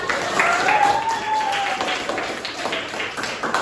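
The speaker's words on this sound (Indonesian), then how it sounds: "Ada tepuk tangan dulu untuk kita semua." Audience applause in a classroom after students perform, a dense, steady patter of many hands clapping close by for the full few seconds, with faint voices mixed in.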